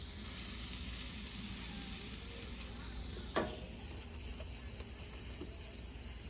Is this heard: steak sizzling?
yes